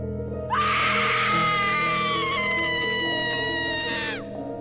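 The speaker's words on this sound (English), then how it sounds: "All I remember is waking up to a sudden and horrid screaming coming from upstairs." A sudden, horrid high-pitched scream, used as a horror effect, rises abruptly, holds loud and wavering for several seconds, then drops off, over a low droning background.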